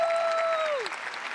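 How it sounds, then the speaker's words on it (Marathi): Studio audience of a Marathi comedy show applauding, a steady wash of clapping heard throughout, with a short sung or spoken tone fading over it at the start. "पण जोरदार टाळ्या दोघींसाठी झाल्या पाहिजे"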